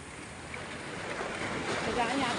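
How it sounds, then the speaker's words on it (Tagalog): A small boat's engine runs at sea on fairly calm water, a steady droning rumble mixed with wind and wave wash that swells slightly toward the end. "Ay gumana ang makina mo!"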